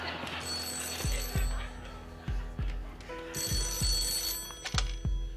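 A telephone rings with repeated electronic bell bursts on a television game show set, a call from the banker on Deal or No Deal, loud and rhythmic over a faint room murmur.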